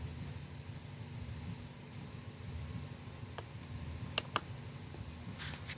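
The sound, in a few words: mouse click on the install button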